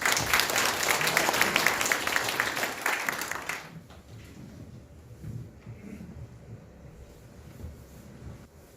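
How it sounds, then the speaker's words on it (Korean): Applause from a party members' rally crowd in a hall in Yangcheon, Seoul, welcoming a city council committee chair to the stage; clapping is strong for a few seconds, then cuts off and leaves quiet room noise. "큰 박수로 맞이해 주십시오."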